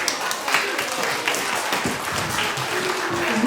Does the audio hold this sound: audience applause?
yes